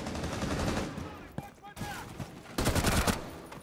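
Rapid gunfire in Rainbow Six Siege, dense bursts filling most of the stretch with a short lull in the middle, then a loud renewed volley, with faint voices mixed in.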